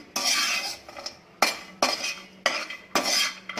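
Cashews and almonds being dry roasted in a pan on a low flame, stirred with a utensil that scrapes and clinks against the metal in repeated strokes, loud and close, with no one talking.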